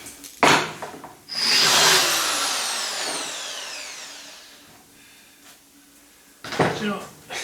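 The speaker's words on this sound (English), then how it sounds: "Don't like that drill one bit." A power drill whirs up loud and close, its pitch sweeping down as it winds off over a few seconds, bracketed by sharp knocks of handling in a workshop, with brief talk nearby.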